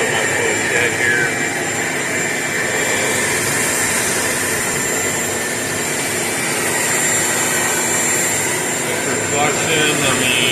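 A Craftsman 16-gallon 6.5 peak HP wet/dry shop vac with its exhaust baffle runs continuously at steady full volume, a loud broadband whooshing motor drone with a high steady whine throughout.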